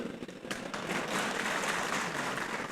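A large audience claps steadily at a talk given by the Global CEO of iD Fresh, a dense wash of applause that swells after the first half-second and holds at full strength.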